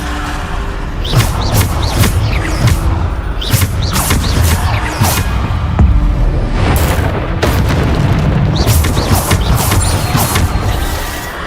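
Bombarda explosion spells cast in the video game Hogwarts Legacy during combat: a near-continuous run of loud, booming blasts and bursts, one after another across the whole stretch, with no talking.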